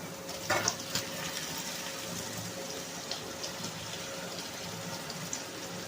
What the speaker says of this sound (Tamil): அதுலேயே கொஞ்சம் தண்ணியை சேர்த்துட்டு அதை அப்படியே நம்ம ஊற்றிடலாம்.